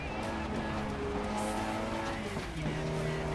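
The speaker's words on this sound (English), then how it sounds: "A little bit of oversteer and hitting the guardrail there a little bit" A race car in the video game FlatOut Ultimate Carnage roars steadily as it oversteers and clips a guardrail, the engine note shifting partway through, with some tire scrub in the mix.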